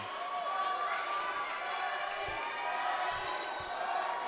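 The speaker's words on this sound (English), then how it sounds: "it was funny as you hear the SFU swimmers cheer Hadi's name" SFU university swimmers cheering at a collegiate swim meet against UBC and University of Victoria, a steady, dense crowd roar echoing through an indoor pool hall, with a few thumps underneath.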